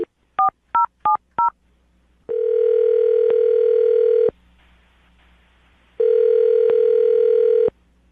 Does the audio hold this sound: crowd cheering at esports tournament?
no